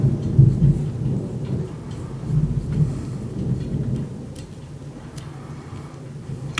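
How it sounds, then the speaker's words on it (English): Thunderstorm with rain outside, heard from indoors as a continuous low rumble and rain hiss of moderate loudness, with faint low thunder swells and no talking. "but we have a thunderstorm outside right now."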